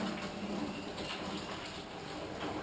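PlastiDip and thinner being poured through a funnel from one container into another, a soft steady liquid trickle and gurgle, faint and continuous with no talking.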